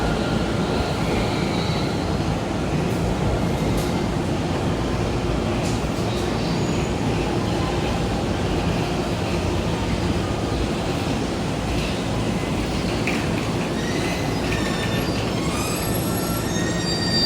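A JR Tokaido Line train pulls into a platform at Yokohama Station, its steady low rumble and wheel noise filling the scene, with faint brake squeals and station ambience near the end.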